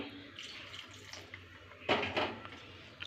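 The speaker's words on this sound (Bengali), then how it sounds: "আর একটু জল দিয়ে দেব।" A little water splashes into a pan of chicken curry being cooked in a kadai, a brief close burst of pouring near the end over a low steady kitchen hum.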